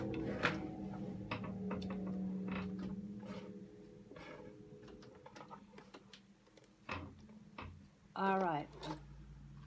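A sewing machine stitches seams joining the lower and middle front panels of a fabric project bag, running in short clattering bursts with pauses, and a voice speaks briefly near the end.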